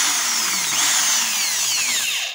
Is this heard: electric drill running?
yes